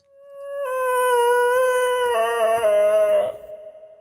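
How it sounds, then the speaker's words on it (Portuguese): A recorded howl plays through speakers, one long drawn-out wail that rises slightly and holds steady for about three seconds, loud and clear, then trails off into a fainter lower tone with a second voice joining briefly near the end. "Vocês ouviram esse uivado."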